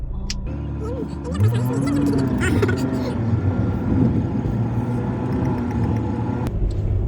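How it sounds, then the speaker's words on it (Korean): An M2323 express M-bus bound for Songpa rolls along a road in Hopyeong-dong, its steady engine rumble and traffic noise running continuously beneath people talking close by. "저기 앞에 보이는 게 M2323 버스, 저게 이제 송파까지 바로 가는 네, 직행 M버스입니다"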